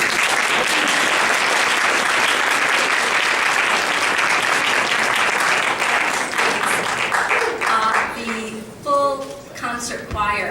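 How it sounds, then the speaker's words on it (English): An audience applauds a concert choir at an event, loud dense clapping that holds steady and then thins out and fades toward the end, with a few voices and cheers over the tail. "Let's give them another round of applause."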